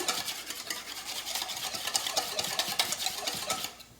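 Potato salad ingredients being mixed, a brisk rhythmic scraping and clicking of a utensil against a bowl, close and steady for a few seconds before stopping.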